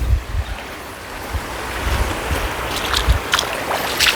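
Clear water flowing in a rural stream beside a natural fish pond, a steady broadband wash and gurgle with gusts of wind buffeting the microphone and no voices.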